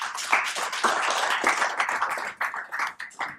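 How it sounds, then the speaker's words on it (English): Audience at a conference event on national security applauds, a fairly close, uneven burst of hand claps with distinct individual strikes, fading in and out over a few seconds. "A big round of applause for him."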